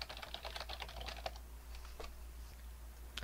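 A password goes in on a computer keyboard on an Ubuntu system: a quick run of soft keystrokes, then a few slower taps, faint and close in a quiet room.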